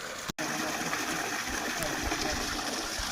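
Spring water flowing out in three streams at the origin of the Indravati River near Mardiguda, a steady close rushing and splashing with a brief dropout near the start.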